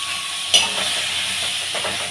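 Coriander powder sizzles and is stirred in a hot pan with onions and salt for mutton kulambu, a steady close frying hiss with a scrape of the spoon.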